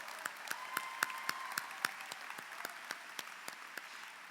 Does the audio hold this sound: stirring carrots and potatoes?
no